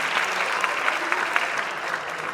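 An audience at a Hindi poetry gathering in Kolkata clapping together, steady crowd applause with scattered sharper claps standing out, fairly close and sustained.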